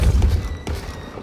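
A spell impact in a video game lands as a heavy, close thud with a rumbling low boom, followed by a second softer thump about half a second later.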